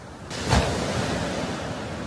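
Ocean waves at a beach in Busan, South Korea, heard as a soft, continuous wash of surf with a gentle swell near the start, mixed with some wind.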